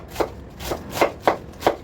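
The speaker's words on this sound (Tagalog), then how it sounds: "Yung mga repolyo, hiwain natin." A knife chops through cabbage on a cutting board in a home kitchen, five distinct, evenly spaced cuts with quiet pauses between them, close and clear with no talking.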